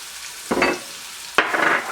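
Shallots, thyme, rosemary and butter hit a hot pan with two bursts of loud close sizzling, the second sustained, while cooking for a bacon mushroom spinach omelet.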